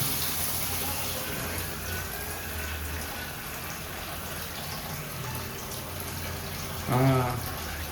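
A hotel shower runs hot water in a continuous hissing spray, with a brief voice rising over the stream near the end.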